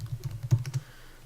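Quick, light keystrokes tap out a value on a computer keyboard, about a dozen crisp clicks in a short burst before falling quiet, close and alone.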